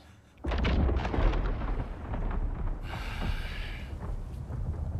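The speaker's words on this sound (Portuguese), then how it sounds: "Trovões." Rolling thunder in God of War Ragnarök, a loud deep rumble that starts suddenly and sustains for several seconds with no voices over it.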